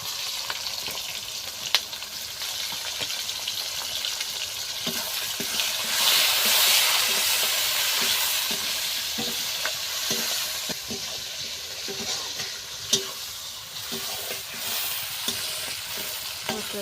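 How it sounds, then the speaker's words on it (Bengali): Onion, tomato, bay leaf and whole garam masala fry in a pan, a continuous close sizzle broken by frequent scraping stirs and a few sharp clinks of the spoon, with no voices. "দিয়ে ভালো করে একটু ভেজে নেব।"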